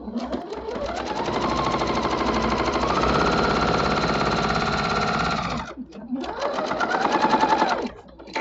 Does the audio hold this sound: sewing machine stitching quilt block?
yes